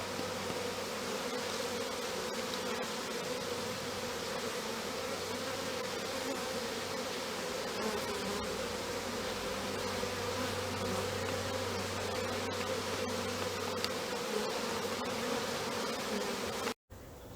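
Honeybees fan at the entrance of a bait hive, making a dense, steady drone close by with a low hum underneath that holds for most of the time before cutting off near the end.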